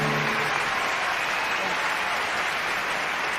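Audience at the 2000 Oscars ceremony applauding, a dense, loud and even wash of clapping that carries on throughout.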